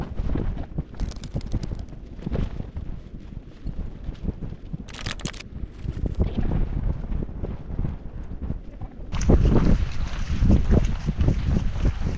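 Cold, wet wind buffets the microphone outdoors at an Icelandic campsite, a loud, rough rumble throughout that grows stronger toward the end, with no talking.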